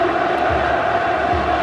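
A football stadium crowd at an Algeria vs Equatorial Guinea AFCON qualifier gives off a continuous broad roar of cheering. It stays steady and fairly loud with no clear individual voices.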